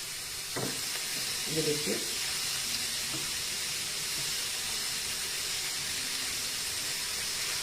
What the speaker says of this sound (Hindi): हल्का सा ही सॉटे करना है अपनी इन चीज़ों को